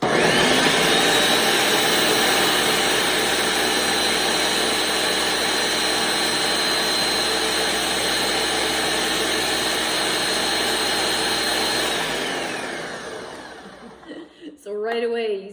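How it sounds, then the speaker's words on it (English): A locking countertop blender purees a smoothie of orange juice, banana, berries and yogurt, a loud steady high-pitched whir that holds for about twelve seconds before winding down, followed by a voice speaking. "So we put this on with our lovely blender that will not blend unless it's locked."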